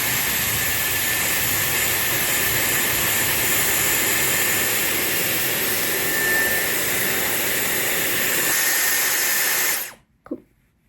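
A Dyson hair styler blows air steadily and loudly while curling hair, a continuous close whooshing roar that holds for about ten seconds before cutting off abruptly, followed by a brief handling sound.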